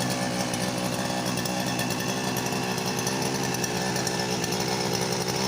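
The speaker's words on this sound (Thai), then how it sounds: "ปลี่ยน หัวเทียนเสร็จแล้วนะครับเราก็จะมาลองสตาร์ทดูนะครับ อ่า ชัก ชึ้นเลยนะครับ" A petrol grass trimmer engine, left unused for a month and just given a new spark plug, runs after a pull start with a loud, continuous, buzzing two-stroke drone close by, no talk.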